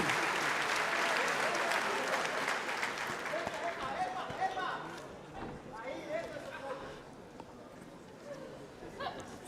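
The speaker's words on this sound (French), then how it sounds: "On les applaudit." Audience applauding at a women's boxing match in an arena, broad crowd clapping that starts strong and fades, with a commentator talking over it.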